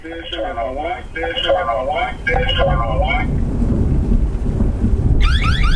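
An outdoor wireless security camera's alarm: a warbling electronic tone repeats in short pulses, then gives way to a steady noisy rush with a rising chirping sweep at the end.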